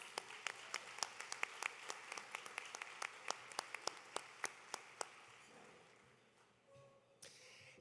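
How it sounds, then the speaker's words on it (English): Guests at a Senior Inspiration Awards event in a resort special events center applaud, with a few sharp individual claps standing out over the softer group clapping before it tapers off. "Let's give them a round of applause"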